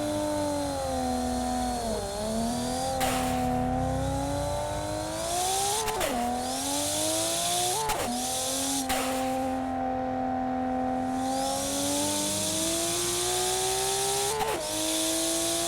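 A turbocharged car engine in a driving video game revs up again and again, its droning pitch climbing and then dropping at each gear change, loud and steady with no talk.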